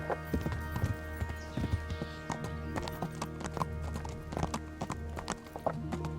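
Horse hooves clip-clop at a steady walking rhythm in the video game Kingdom Come: Deliverance, close and clear over a low ambient drone, with a brief whinny mixed in.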